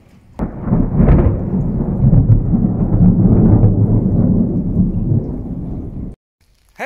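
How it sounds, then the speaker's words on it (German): A heavy thunderclap from a nearby lightning strike during a storm cracks sharply, then rolls and rumbles loudly for several seconds before cutting off, with rain noise under it. "Und da hinten, wo jetzt gerade der Blitz eingeschlagen hat"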